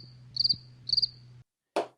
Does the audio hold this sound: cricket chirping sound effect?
yes